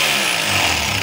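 A DeWalt D25133 rotary hammer drill running in chipping mode gives a steady, loud, continuous mechanical roar with a rapid buzzing hammer, heard up close and alone.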